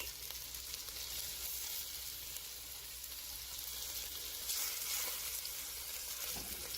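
Floured bone-in meat sizzles steadily in a hot pan while its outside browns, a continuous soft crackling frying hiss with a brief louder flare partway through and no talk.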